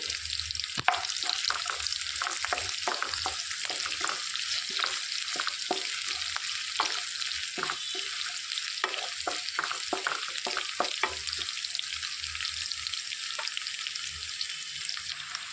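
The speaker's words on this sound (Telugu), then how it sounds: "ఇందులోనికి ఒక హాఫ్ టేబుల్ స్పూన్ మినప్పప్పు శనగపప్పు కలిపింది వేసుకొని వేయించుకోవాలి" Urad dal and chana dal frying in hot oil, a continuous hissing sizzle with frequent small crackles and stirring scrapes clustered through the middle, close up and without talk.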